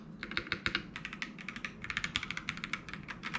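Rapid typing on a mechanical keyboard, the larger hot-swappable CMK87 or Keychron K3, with close, crisp clacking keystrokes in an irregular, continuous rhythm and no voices.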